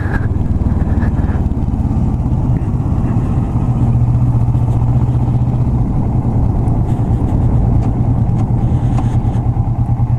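A Kawasaki Vulcan S motorcycle fitted with an aftermarket exhaust runs steadily, its low engine rumble close and loud throughout with no pauses.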